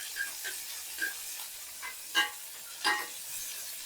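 Quiet hiss of oil frying with soft intermittent scrapes and clinks of stirring in the pan, close and gentle, sizzling steadily with small bursts.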